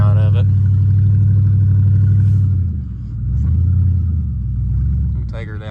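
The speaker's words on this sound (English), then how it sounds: "Have a loud exhaust like so" A 2003 Ford Crown Victoria with a loud exhaust revs up close, a deep rumbling roar that swells, dips, and rises again in uneven surges, with brief voices talking at the start and end.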